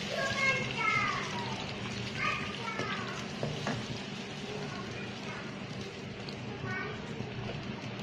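Chicken masala with ground roasted spices, yogurt, tomato and onion sizzling in a pan while being stirred, a steady frying hiss with faint scraping, under talk and children's voices in the background.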